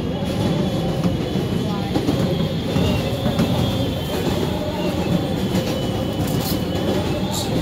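Interior rumble of an R142A subway car on a Brooklyn-bound 4 train in New York, a loud continuous roar of wheels and motors with faint rail clatter and brief metallic squeals, steady throughout.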